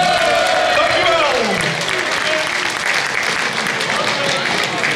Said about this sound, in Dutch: Dus nog een applaus voor Richie.